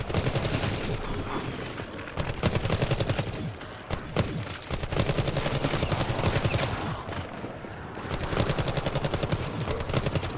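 Rapid automatic gunfire in Call of Duty: Black Ops 4, loud continuous bursts of shots with brief pauses, filling the whole stretch with no talking over it.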